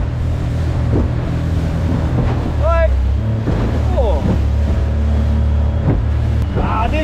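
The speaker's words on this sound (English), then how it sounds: "It is pretty bloody windy." Strong wind buffets a small fishing boat at sea, a loud continuous roar and rumble with choppy water, while people's voices break through briefly in the gusts.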